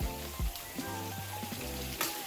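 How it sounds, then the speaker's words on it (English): Chicken pieces fry in a pan with a steady, close crackling sizzle and scattered pops, quiet overall and with no talk. "It's frying nicely."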